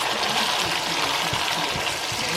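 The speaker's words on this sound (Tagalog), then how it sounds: "Tatanggalan ko na lang siya ng tubig." Water drained off a pot of cooked beef steak pours in a continuous gushing, splashing rush, close and fairly loud with no break.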